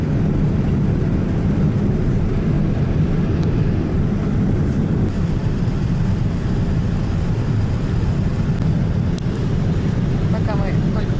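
Steady broadband roar of an airliner cabin just after takeoff while the plane banks into a turn, a loud continuous low rumble that never lets up, with people talking faintly underneath.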